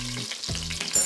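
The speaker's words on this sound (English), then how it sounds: "Be careful, it's starting to sizzle back up." Chicken sears in a hot pan for arroz con pollo, a steady close sizzle and crackle of frying with brief stirring scrapes, no voices.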